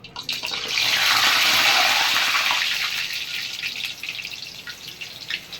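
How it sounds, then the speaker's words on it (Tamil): Milk paniyaram batter for a Chettinad-style dish dropped into hot oil, giving a loud, close sizzle that swells quickly then settles into a steady bubbling crackle with no talk. "இப்போ எண்ணெய் காஞ்சிருச்சு இப்போ போட்டுடலாம் கொஞ்சம் கொஞ்சமாக போடணும்"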